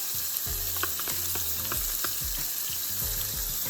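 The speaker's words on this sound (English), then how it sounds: "So we're going to saute these up" Peppers, onion, garlic and tomato sauté in about a quarter cup of oil in a pan, with a steady close sizzle and intermittent clatter of stirring throughout.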